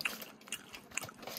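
A quiet bite into KFC Hot Crispy fried chicken, with a few close crunchy crackles of breading over about a second.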